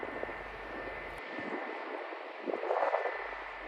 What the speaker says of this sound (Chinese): 现在又过来一架中国南方航空的